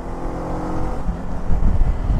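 A Zongshen Cyclone RX3s motorcycle accelerates in fifth gear, a steady engine drone under rushing wind that swells slightly toward the end, recorded close from the rider's position.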